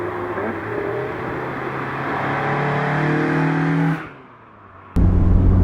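A Mazda MX-5 fitted with individual throttle bodies revving hard, its engine note climbing and holding loud and close, then dropping sharply to a low idle before a sudden blast of revs returns.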